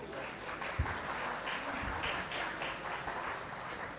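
Audience applause at a corporate IT and analytics panel session, with moderate, fairly even clapping from a room of listeners, heard at a distance with a couple of sharper bumps.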